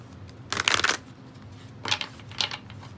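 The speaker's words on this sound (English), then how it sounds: "We'll draw two more cards and then we'll do your tarot spread." Oracle cards are shuffled and drawn by hand, with one brisk riffling burst followed by two softer flurries of card shuffling, close and alone.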